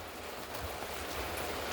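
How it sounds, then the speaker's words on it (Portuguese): Rain falls steadily as a soft, even hiss that holds at the same level throughout, with no voices heard. "que tá chovendo aqui"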